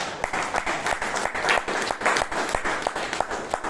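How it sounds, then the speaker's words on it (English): A crowd at a Toastmasters club meeting in Bangalore applauds steadily, dense clapping that continues for a few seconds at a fairly loud, close level. "Give her a round of applause for being here."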